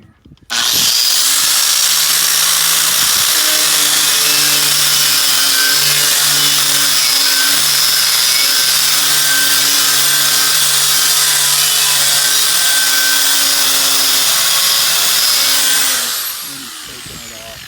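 Drill fitted with a Harbor Freight stripping attachment grinds bed liner off a Toyota 4Runner bumper, a loud, steady high-pitched whine with a rough abrasive edge that holds for about fifteen seconds before winding down.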